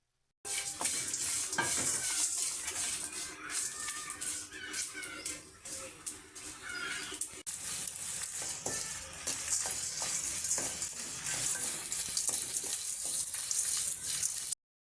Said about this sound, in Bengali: এই উপকরণগুলো একসাথে করে গরম কড়াইতে ভালো করে ভেজে নিতে হবে।